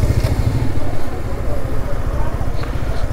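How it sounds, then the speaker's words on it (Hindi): The Darjeeling toy train's steam locomotive chugs near a station with a rhythmic, pulsing low rumble and clatter, fairly loud and close, while someone talks over it. "ये देखो स्टीम ट्रेन"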